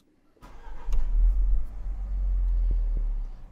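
Land Rover Defender L663 engine starting outdoors: a brief starter crank, then the engine catches into a loud, steady low rumble that holds at idle for several seconds, with no talk.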